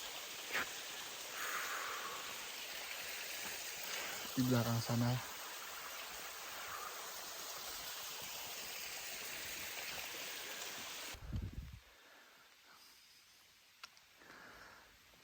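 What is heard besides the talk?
waterfall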